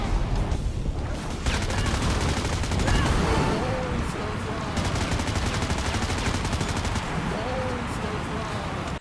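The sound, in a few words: gunfire in the video game Frag Pro Shooter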